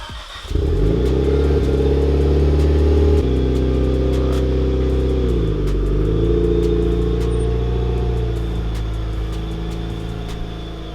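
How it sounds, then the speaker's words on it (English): A Mitsubishi Lancer Evolution VIII pulls in close by, its engine holding a steady, loud, low rumble with a shift in pitch as it moves and slows. No one speaks. "We're gonna pull in the Evo 8"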